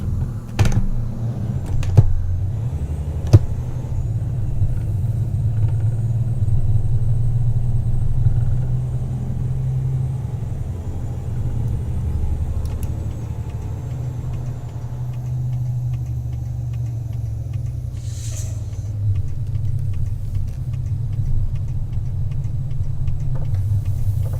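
A car accelerates onto a highway on a road trip from Phoenix to Las Cruces, its engine and tyre rumble droning low and steady throughout with a few faint clicks and knocks from inside the cabin.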